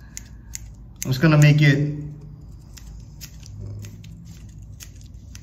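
Scissors snip stray strands from a pink skirt on a handmade tuna fishing lure, giving a few small, crisp clicks before and after someone speaks briefly up close.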